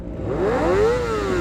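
A Kawasaki ZX25R fitted with a loud Toce exhaust revs up hard once close by, its pitch climbing, then easing as the throttle drops.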